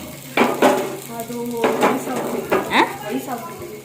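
Tempering spices for rasam crackle and sizzle in a hot pan, with bursts of popping and spoon scrapes against the metal coming in uneven waves, fairly close.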